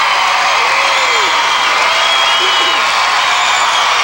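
A large arena crowd in Baton Rouge, Louisiana cheers, whistles and whoops steadily after Kristi Yamaguchi's figure skating performance at an ice show.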